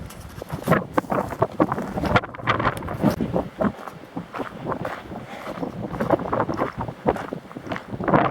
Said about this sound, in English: this wind is horrible